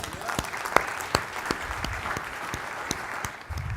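Sparse, scattered clapping from a small audience at a scientific advisory board presentation, with a few sharper individual claps standing out over a quiet room for a few seconds.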